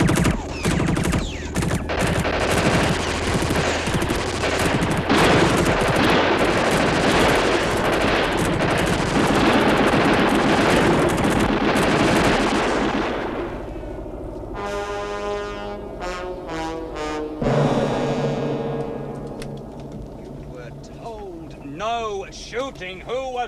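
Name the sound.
gunfire in a war movie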